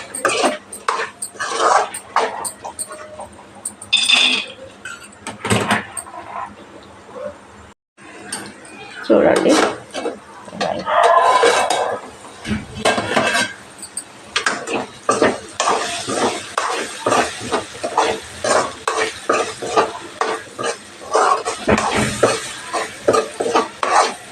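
Okra fries in a pan for bendakaya pulusu with a light sizzle while being stirred, bringing clinks and scrapes of metal against the pan. Someone talks over much of it, and there are pauses between bursts of stirring.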